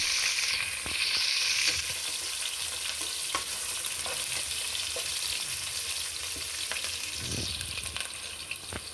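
Sliced onions sizzle steadily in a pan with a bright continuous crackle and occasional stirring scrapes, close and alone with no talking.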